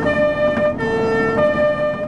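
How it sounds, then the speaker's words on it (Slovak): Fire engine sirens wail continuously on city streets, steady tonal bands with slight dips and swells, loud and close, no voices. "So zapnutými sirenami jazdili hasiči hodinu po meste a jeho blízkom okolí"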